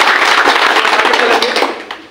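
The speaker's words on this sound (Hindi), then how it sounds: "सभी सर के एक बार जोरदार तालियां" An audience at a direct selling business event in India claps loudly, a dense burst of applause that holds steady and then tapers off over about two seconds.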